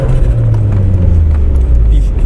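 Homemade Pocket Rocket car accelerating at half throttle, its engine giving a loud, close, low droning note that shifts slightly in pitch as speed builds, with a voice talking over it.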